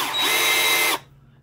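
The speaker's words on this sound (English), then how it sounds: "you could actually do hammer drilling" A DeWalt 36V Nano lithium 1/2-inch hammer drill from the 2000s, set to hammer mode, runs loud and close for about a second, then cuts off abruptly into near silence.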